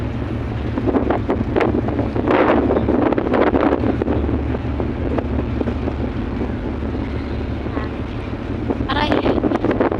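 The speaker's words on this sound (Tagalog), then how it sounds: "Grabe ang hangin ng taas ng barko." Strong wind roars and buffets continuously across the open upper deck of a passenger ship bound for Manila, with a low engine rumble underneath and brief voices now and then.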